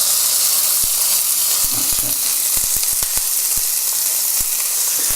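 A burger sizzles and fries steadily in a little oil in a hot pan, a loud continuous hiss punctuated by sharp crackling pops, with no talking over it.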